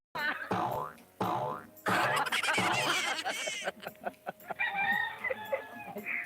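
A rooster crows loudly several times in a row, drawn-out calls broken by short clucks, close and clear with no talking.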